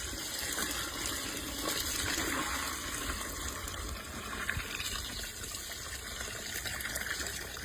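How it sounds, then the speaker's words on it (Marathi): Water gushes steadily into a pan to make the gravy for a spicy usal curry cooked the way wedding caterers make it. The continuous close pouring rush lasts the whole stretch. "आता आपण याच्यात पाणी घालून घेऊ रस्स्यासाठी"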